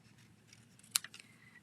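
A pair of scissors trims a card with a single crisp snip, followed by a couple of fainter cuts, all quiet against a soft room background.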